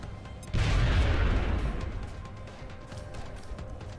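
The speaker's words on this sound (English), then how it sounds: "Gonna grenade this guy." A grenade goes off in the video game XCOM Enemy Within as a single loud, deep boom that swells into a heavy rumble and slowly fades under a low, continuous game soundscape.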